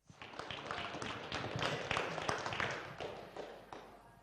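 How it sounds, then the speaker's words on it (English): Audience applause for third-place finisher Josh Banwell at a USSC Indianapolis GP round: steady, moderately distant clapping from a crowd, evenly sustained throughout with irregular individual claps standing out. "So big round of applause for Josh Banwell, please."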